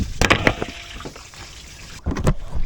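Coolant water splashing and trickling out of a car's upper radiator hose during a flush, a few gurgling bursts near the start and again near the end with a quieter dribble between.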